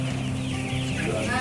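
Chickens clucking and crowing together on a poultry farm with modern automated feeders, a dense steady chorus of birds close by throughout.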